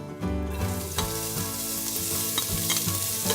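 Onions and celery sautéing in olive oil with a steady, close sizzle and stirring clatter, broadband frying hiss continuous throughout with small utensil knocks and no talking.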